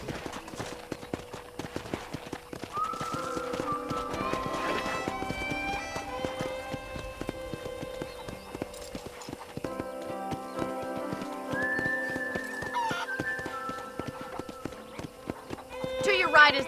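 Horse hooves in Red Dead Redemption on Xbox Series X clip-clop at a steady riding rhythm under continuous music and game ambience, with a possible whinny near the end.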